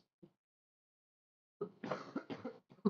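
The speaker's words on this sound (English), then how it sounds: "I'm not having a wet cough like you are. I'm having kind of a dry cough." A single short dry cough sounds near the start, then a pause before a burst of close, loud vocal sound, a few more bursts trailing off at the end.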